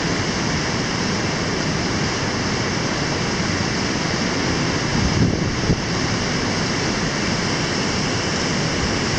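A waterfall on Minnesota's North Shore roars as a broad, constant rush of falling water, steady and fairly loud, with some wind buffeting the microphone and no speech.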